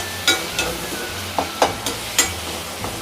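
Tomatoes and onions sautéing in a pan, with a low background sizzle broken by sharp, regular spatula scrapes and taps about every half second.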